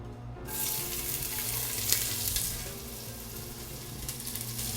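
Onions sauté in oil in a pan in a restaurant kitchen, giving a steady, close sizzle with bright frying crackle and occasional stirring scrapes, no voices.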